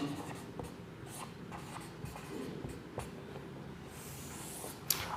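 Chalk or pen scratches out a chemical equation for magnesium and oxygen in a Class 10 chemistry lesson, a steady scratchy writing texture with occasional taps, fairly close, under a low room background.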